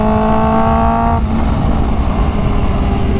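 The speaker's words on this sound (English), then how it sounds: "I could listen to this bike all day." A 2019 Kawasaki H2 motorcycle with an ECU flash and Vandemon titanium exhaust revs loud and close, holding a high tonal engine whine that drops abruptly after about a second into a rougher, lower idle.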